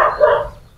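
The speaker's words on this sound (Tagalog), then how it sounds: "Maingay dito. May mga aso talaga dito sa kapitbahay namin." A neighbour's dog lets out a single short, close bark that quickly fades.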